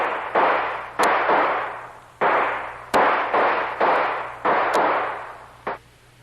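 Gunfire in an audio drama set between airport hangars, with about nine loud, close sharp shots coming in irregular bursts, each followed by a decaying echo. Nobody speaks.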